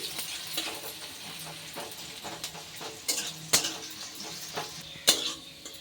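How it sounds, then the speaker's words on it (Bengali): A handful of onions fry in mustard oil in a wok with a soft, crackling sizzle, punctuated by several sharp metallic taps and scrapes of a spatula, close and moderately quiet. "সবার আগে কিন্তু পেঁয়াজটাই ভেজে নিচ্ছি।"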